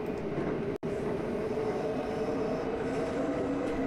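Interior of a JR Osaka Loop Line train running toward Noda Station, a steady loud rumble of wheels and motor with a brief dropout, continuous with no talk.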